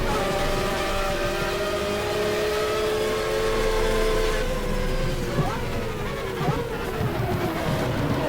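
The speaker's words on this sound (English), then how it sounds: "A drag race with two Mazda rotary engines." Two Mazda rotary-engine cars in a GTR2 drag race, with sustained buzzing engine drone and rising, shifting harmonic whines as they accelerate, loud and steady throughout.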